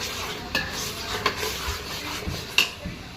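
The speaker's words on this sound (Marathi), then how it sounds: "छान परतवून घेऊया धना पावडर" Coriander powder is stir-fried into onion-tomato masala for chole, with a low steady sizzle and a few sharp scrapes and taps of a spoon against the pan.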